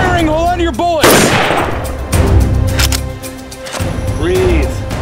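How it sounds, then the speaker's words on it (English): Gunfire in a horror film: heavy, loud blasts of shots come in bursts amid dense battle noise, with voices shouting over the top. "Start firing! Hold on to your bullets!"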